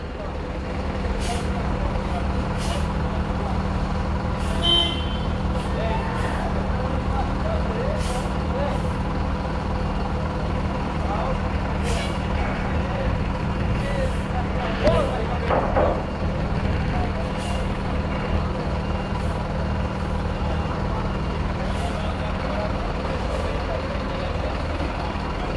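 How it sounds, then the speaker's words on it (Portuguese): A truck drives aboard the Santa Rosa river ferry on the Belém to Breves route, engine rumbling steadily while air brakes hiss and reversing beeps chirp repeatedly; people talk nearby throughout. "Olha, mais um caminhão aqui que vai embarcar agora."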